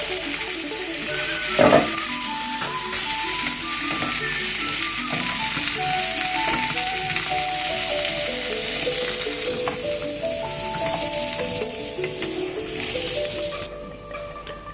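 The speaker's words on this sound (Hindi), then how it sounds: "जो आलू हमने ब्लांच किया था, इसको हम हल्का सा फ्राई कर लेंगे।" Blanched potatoes sizzle steadily in hot cooking oil for Sindhi chicken biryani, a continuous crackling fry with occasional stirring, no voices.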